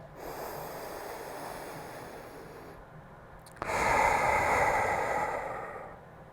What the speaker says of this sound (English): Full exhale, breathe out.